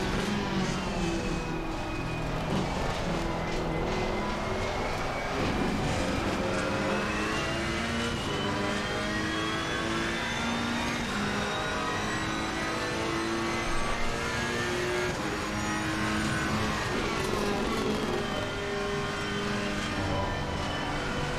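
A Ferrari race car engine in the Assetto Corsa Competizione racing game revs continuously, pitch climbing and dropping through gear changes, a steady moderate engine drone with no voices.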